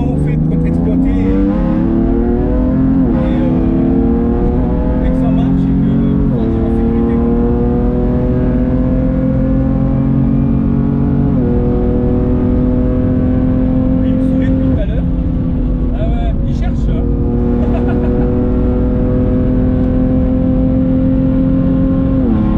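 A BMW M4 Competition tuned to Stage 2 with about 600 hp growls loudly from inside as it drives, the engine note climbing and dropping through repeated gear changes while occupants chat over the steady roar.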